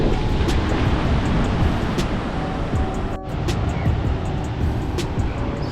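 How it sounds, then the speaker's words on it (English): Surf at Hot Water Beach on the Coromandel coast of New Zealand, a steady broadband wash of breaking waves with constant rumble and no distinct pauses, heard outdoors at moderate distance. "So this is Hot Water Beach."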